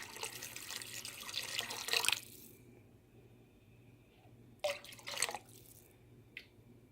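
Water poured from a tap into a pot of homemade chicken noodle soup, two splashy bursts of flow with a short drip after, quiet between pours.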